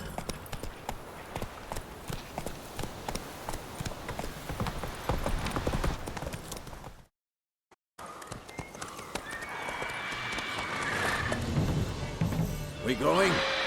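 Horse hooves clip-clop and gallop steadily in The Witcher 3 on Xbox, broken by a brief silence midway, then resume with a whinny and louder movement; voices are present.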